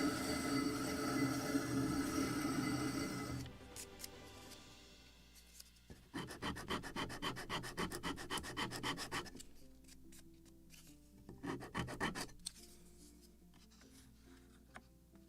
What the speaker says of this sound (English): More sanding, more sanding.